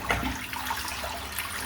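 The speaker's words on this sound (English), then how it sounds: "Just going to rinse the soap out now so it's done and starts drying." Running water rinses soap off hands in a steady, quiet wash with no talking.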